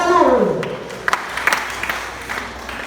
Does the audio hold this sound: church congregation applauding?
yes